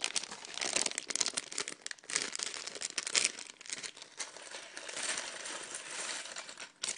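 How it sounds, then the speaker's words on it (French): Small plastic bags of LEGO pieces are torn open and handled, producing close, busy crinkling and rustling with loose pieces clicking and rattling inside. "J'oublie d'ouvrir mes sachets de petites pièces."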